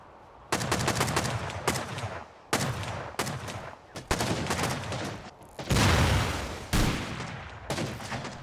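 Raiders in the game Rust fire down from a mountaintop in loud, sustained bursts of automatic gunfire, several volleys broken by brief gaps.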